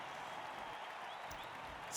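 Crowd cheering from the Blood Bowl video game, a steady wash of fans roaring at moderate level throughout, swelling louder at the very end.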